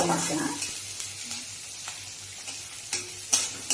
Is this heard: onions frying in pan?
yes